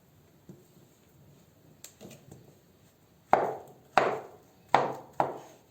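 Knife strokes thud against a wooden board while chopping bananas, a few light taps followed by four firm, evenly spaced chops, close and clear.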